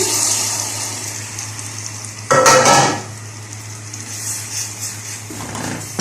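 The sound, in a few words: garlic, onion and tomatoes sizzling while frying in a pan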